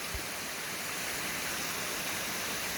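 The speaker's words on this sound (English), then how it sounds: "It's a little waterfall cascading off the rock face above us." A small waterfall cascading off a rock face above a hiking trail by Middle Creek in Mt Mitchell State Park, a constant close hiss of falling water, steady and unchanging.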